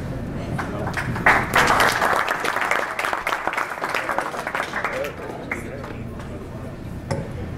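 Audience applause at a Rotary exchange students' stage gathering, uneven clapping from a crowd that swells early and then thins, with some talk mixed in.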